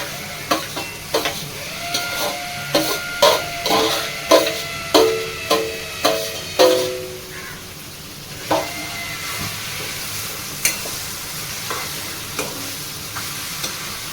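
Brinjal and coriander stirred into browned onions in a pan for bharit, with a string of sharp spatula scrapes and knocks over a low sizzle, the strokes regular at first and then sparser.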